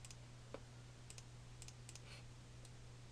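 A computer mouse clicks quietly, with short sharp taps in small clusters over a steady low hum, with no voices.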